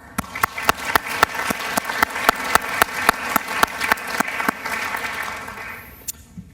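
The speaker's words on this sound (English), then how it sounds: "Let's also give her a much-deserved round of applause." Applause at a human rights youth awards ceremony in Iowa City, with sharp, rhythmic individual claps standing out close over a softer crowd clapping that fades out near the end.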